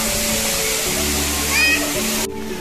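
Montel waterfall rushes as a loud, constant broadband roar, with faint tonal hum beneath and a brief chirping sound near the middle.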